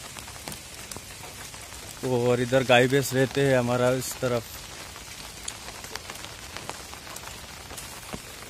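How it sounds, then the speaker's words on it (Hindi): Rain falling in a village beside a house, a steady soft patter of drops on surfaces throughout, with someone talking over it for a couple of seconds midway. "तो बारिश हो रहा है इसलिए पूरा गीलापन है इधर सामने"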